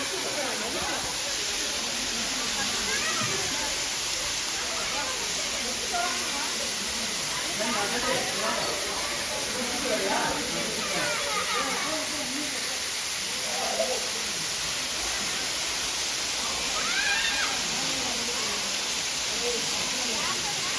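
A pouring waterfall beside a cave temple of Kailasanathar roars as a steady, dense wash of broadband noise through the whole stretch, with a voice talking over it at times.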